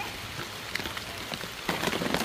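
Rain falls steadily in the mountains, pattering on leaves and surfaces with a dense, close hiss, and a burst of heavier drops comes near the end.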